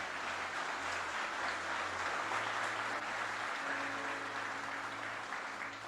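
A church congregation applauding during a sermon, a continuous wash of clapping with a low, faint hum of voices or music beneath, moderately distant.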